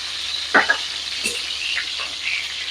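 Ghee melts in a hot tin pan with a continuous close hiss of sizzling, broken by a couple of brief utensil scrapes.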